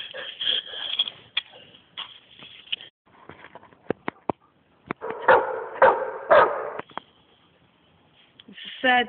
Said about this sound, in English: them fucking dogs barking out front